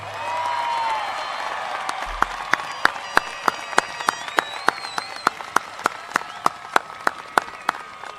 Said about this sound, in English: Let's give one more round of applause for our class of 2024